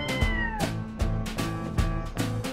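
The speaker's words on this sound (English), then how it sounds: "Meow!" A cat meows several times in the video game Later Daters, with drawn-out, tonal calls in a loose repeating rhythm against a soft game background.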